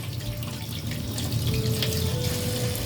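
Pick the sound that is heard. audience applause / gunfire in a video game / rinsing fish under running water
rinsing fish under running water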